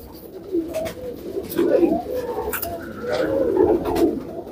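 Several Kasuri and Kamagar pigeons coo nearby in soft, rolling bursts, overlapping one another, with light background noise between calls.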